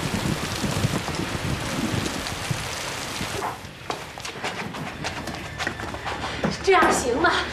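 Heavy rain roars loudly for the first few seconds, then eases into a lighter background wash as people talk over it.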